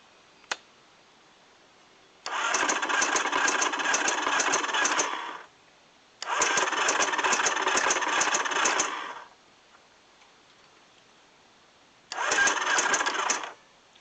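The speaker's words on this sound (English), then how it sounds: "we're going to go ahead and crank this over a couple times. Let it oil up those cylinders." A 1986 Terrapro engine with a suspected timing issue being cranked over by its starter in three separate bursts of a few seconds each, a loud, close, even whirring churn with quiet pauses between and no speech.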